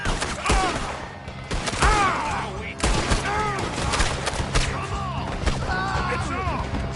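Gunfire erupts in Red Dead Redemption 2 during a chaotic camp shootout, with sharp bursts of shots scattered across several seconds, overlapping with loud shouting voices and dense game sound.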